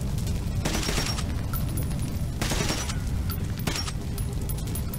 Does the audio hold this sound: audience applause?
no